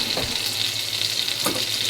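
Beaver tail sizzling steadily in a hot skillet, a soft continuous frying hiss with a couple of faint stirring scrapes.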